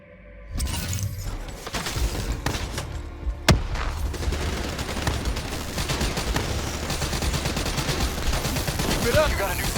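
Firearm gunfire in the shooter Call of Duty: Black Ops 3, with sustained automatic bursts and sharp cracks mixed with shattering impacts, loud and continuous after a quiet start, with some speech underneath.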